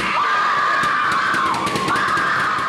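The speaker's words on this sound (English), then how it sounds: "Nice little scream as we get ready for Halloween." A loud, sustained scream at a college sports event, a high wavering shriek running steadily through the whole stretch over dense crowd noise.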